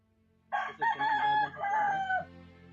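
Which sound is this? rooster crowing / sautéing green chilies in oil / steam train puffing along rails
rooster crowing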